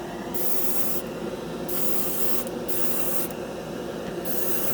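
Harbor Freight $20 dual-action airbrush spraying in repeated bursts, a loud hissing rush of air that starts and stops four times with short pauses between.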